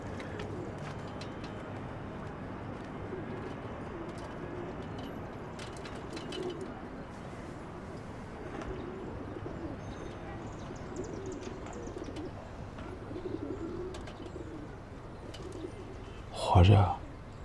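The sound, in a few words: pigeons cooing on a rooftop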